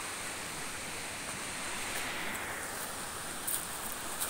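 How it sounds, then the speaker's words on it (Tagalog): Gentle waves wash steadily onto a beach shore with coral pieces scattered about, a soft continuous surf hiss heard from nearby without any voices. "Dalampasigan ito, dalampasigan. Nasa dalampasigan."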